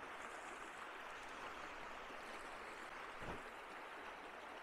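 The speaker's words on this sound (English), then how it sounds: "it's a great spot to appreciate the scenery here. The mountain creek." A mountain creek in Kananaskis at Little Elbow flows steadily on a rainy day, a broad continuous rush of running water heard close and alone without any talk.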